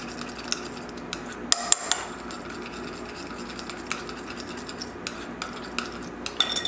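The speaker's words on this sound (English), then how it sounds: "A spoon or fork. I'm using a spoon. Mix it together." A spoon mixes minced garlic into raw ground-beef burger mixture in a bowl, giving soft, irregular scraping and clinking taps close up, with a few sharper knocks against the bowl and no talk.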